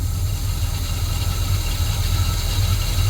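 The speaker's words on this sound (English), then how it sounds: "It's idling on its own." A 1966 GMC pickup truck engine idles steadily with a deep low rumble and constant mechanical vibration, close and loud with no voices over it.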